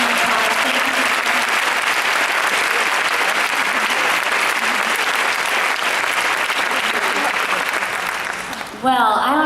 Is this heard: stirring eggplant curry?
no